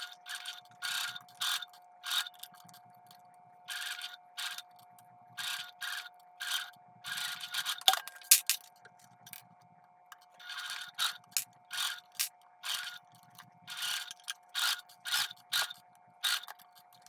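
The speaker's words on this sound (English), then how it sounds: "we will take them both to the sewing machine and baste at about 1/4 inch all the way around here" A sewing machine bastes the pieces of a crescent moon bag, running in quick stitching bursts separated by short pauses, close and fairly steady throughout.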